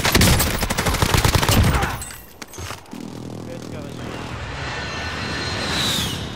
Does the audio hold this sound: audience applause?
no